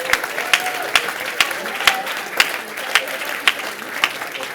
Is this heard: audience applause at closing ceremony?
yes